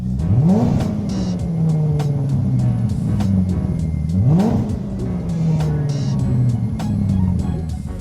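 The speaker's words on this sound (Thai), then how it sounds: "ระบบนี้ไม่มีไฟออกท่อรัวแต่จะมีเสียงเหมือนเครื่องเจ็ตเบาๆ แบบนี้ครับ" A car engine fitted with a Rocket anti-lag system revs in repeated surges, each rise followed by a falling whir, with a faint jet-like airy whoosh riding over the steady motor drone.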